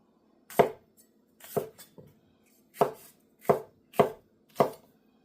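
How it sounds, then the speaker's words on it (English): Vegetables being chopped with a knife on a cutting board for a stir-fry, six or seven distinct, close, crisp chops at an uneven, unhurried pace, with quiet between strokes. "So we're just going to quickly chop up our veg."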